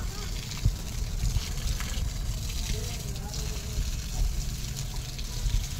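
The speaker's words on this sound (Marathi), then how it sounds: "पाणी बाहेरच्या टाकीतलं इथलं झाडासने जरा घालतो" Water from an outdoor tank splashes and trickles steadily onto dry garden plants, a low continuous gush outdoors with voices and background noise around it.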